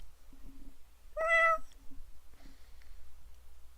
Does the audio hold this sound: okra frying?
no